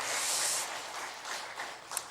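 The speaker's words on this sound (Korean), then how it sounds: "우리 큰 박수로 환영하겠습니다." A church congregation at a Sunday worship service applauds in a dense wash of clapping that is loudest at first and then thins out slightly.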